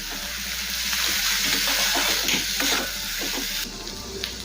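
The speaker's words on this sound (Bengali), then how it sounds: "রান্নার টেস্ট বাড়ানোর জন্য অবশ্যই ডালটা এই পর্যায়ে কিছুক্ষণ সময় নিয়ে নেড়ে চেড়ে ভেজে নিতে হবে।" Masoor dal fries and is stirred in a pan over medium heat, giving a continuous hiss with soft scraping strokes that drops in level near the end.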